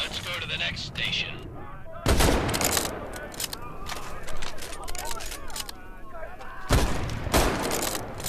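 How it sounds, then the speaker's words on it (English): Gunshots from a K98 bolt-action rifle in the Medal of Honor video game: two loud, sharp cracks several seconds apart, each trailing off into echoing reverb over busy game ambience. "The K98 is a bolt-action rifle, so you reload by pulling rifle."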